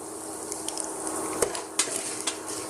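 Asafoetida and turmeric powder tipped into a hot pan of oil while making tamarind paste for puliyodarai, giving a soft steady sizzle with a few sharp clinks and scrapes of a spoon against the pan.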